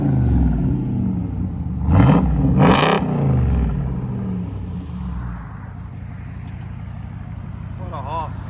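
A straight-piped RAM Mopar V8 gives two quick, sharp revs that rise and fall early on, then settles into a low rumble while someone talks over it.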